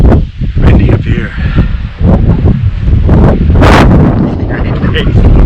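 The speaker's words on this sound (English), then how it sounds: "Windy up here." Strong gusting wind buffeting the microphone high on a steep mountain climb, loud and rumbling throughout with rustling bursts and no clear talk.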